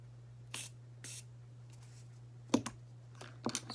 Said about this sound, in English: I just take my setting spray and